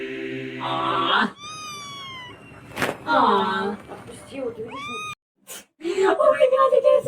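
A cat gives several drawn-out, wavering meows, some rising and some falling in pitch, close and clear. A person talks loudly between the cries.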